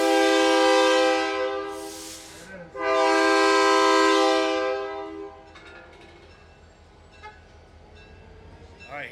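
A Lehigh Gorge Scenic Railway locomotive sounds its loud, close chime horn in two long blasts with a brief gap between, then the engine's idling rumble and faint voices carry on after the horn stops.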